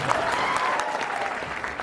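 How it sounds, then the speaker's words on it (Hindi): An audience at a tribal political rally at Mangarh applauds loudly for the event host, a continuous wash of dense clapping with faint voices and a tonal hum underneath. "संचालक महोदय के लिए जोरदार तालियां बजा दीजिए।"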